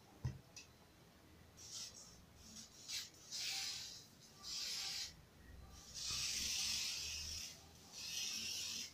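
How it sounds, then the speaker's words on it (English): Several short hissing bursts of TCB Sheen hair spray, quiet and close, separated by brief pauses and faint rustling. "This is the spray I'm going to use"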